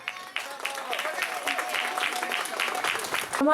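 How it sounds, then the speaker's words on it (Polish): Sustained applause from an audience fills the stretch following a prize announcement at an outdoor Noc Kupały midsummer festival, steady clapping rising slightly at the end. "mam nadzieję, że brawa od Państwa"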